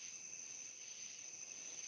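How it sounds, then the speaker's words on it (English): Crickets trill at night by the water near a porch, a faint, continuous high-pitched chirring that holds steady throughout with no other distinct calls. "listen to these frogs and these crickets"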